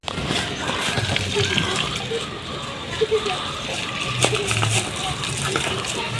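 Running water sloshing and gushing steadily in an outdoor vegetable garden, a close, continuous splashing stream with a few louder spurts, heard under occasional talk.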